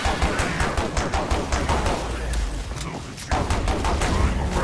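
Rapid, dense gunfire from several players in Killing Floor 2 during a six-player Hell on Earth fight against the Patriarch boss, a loud continuous barrage of shots.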